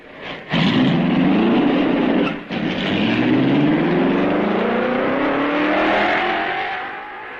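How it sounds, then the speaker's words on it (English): A 1955 Belgian Grand Prix racing car pulls away in practice, its engine loud and close, the pitch rising steadily as it accelerates through the gears, with a brief dip midway. "The road is clear, and Eugenio Castellotti starts the wheels rolling."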